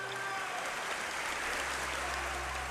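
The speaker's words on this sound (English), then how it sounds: "the crowd stands to applaud. It would be the longest standing ovation in the ceremony's history" A long standing ovation for Charlie Chaplin at an awards ceremony: dense, continuous applause from a large crowd, steady and full without a break.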